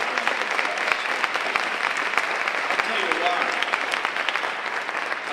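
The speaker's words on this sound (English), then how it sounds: "give them a round of applause" Sustained applause from an audience at a governor's employment news conference, honoring a hospital executive team; dense, steady clapping fills the room throughout at even loudness.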